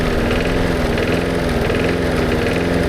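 An old small engine idles steadily in a low, continuous rumble with a faint rise-and-fall surge, running alone at close range with no voices.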